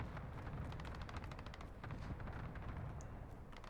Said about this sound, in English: Who's firing mortars back here?